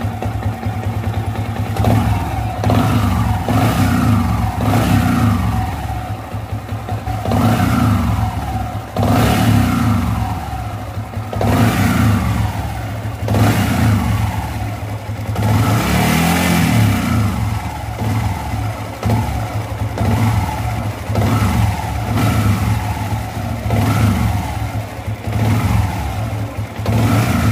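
A Yamaha Vixion motorcycle engine revs repeatedly, rising and falling in a series of whining accelerations over a steady idle, close by and loud.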